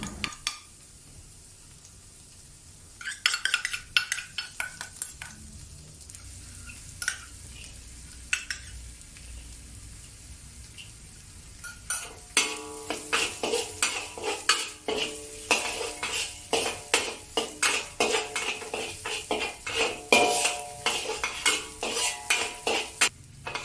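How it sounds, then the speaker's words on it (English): Dried chili, spring onions, ginger and garlic sauté in oil in a wok over low heat. A soft sizzle runs throughout, and a spatula scrapes and clatters against the wok in quick bursts that get busier in the second half. "Heat some oil in the wok and saute the dried chili, spring onions, ginger, and garlic over low heat until aromatic."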